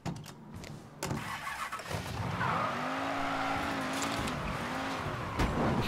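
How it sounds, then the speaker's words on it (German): In the video game Mafia 3, a car starts up and drives off, a close engine note rising and settling into a steady revving hum with brief clunks at the start. "Nehme ich mal schnell das Auto hier zur Hand."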